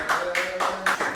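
An audience at a Pop the Balloon dating game claps for an arriving candidate; a short run of a few rhythmic, fairly close claps.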